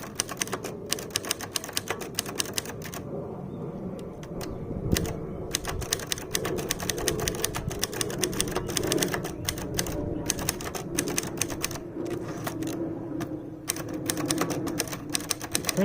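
A Princess manual typewriter is typed on steadily in a typing test, with rapid, crisp clacking keystrokes, occasional pauses and a few heavier strikes close up, no talking.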